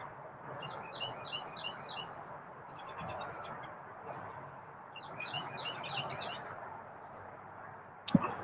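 A pet bird chirping indoors, bursts of quick high tweets and squawks in short series across the clip, close but fairly soft, with a sharp knock at the end.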